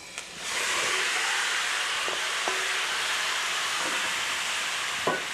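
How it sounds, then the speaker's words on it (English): Loud, steady sizzling hiss of oxtail browning in a hot pot, continuous throughout with a few small clinks and pops. "You hear that sizzle?"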